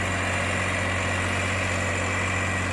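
A Massey Ferguson 8055 Boss farm tractor idles steadily in a village, its engine a constant low drone with a strong deep hum and no talk over it.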